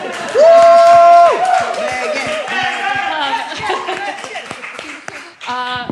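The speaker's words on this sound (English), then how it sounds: "everyone now applaud for me." A panel audience claps and cheers loudly, with whoops and chatter mixed in, the applause swelling then tapering off.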